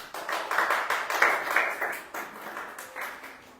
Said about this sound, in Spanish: Denles un aplauso, por favor